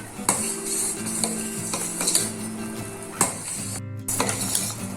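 Utensil scraping and stirring boiling milk with dry fruits in a pot for homemade ice cream, with soft rhythmic clinks and a bubbling, sizzling background, close up.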